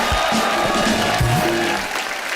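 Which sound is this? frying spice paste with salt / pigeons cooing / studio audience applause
studio audience applause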